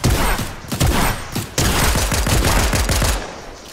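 Rapid automatic gunfire in Fortnite, a loud sustained burst of fast repeated shots with brief gaps, filling the whole stretch with no talking.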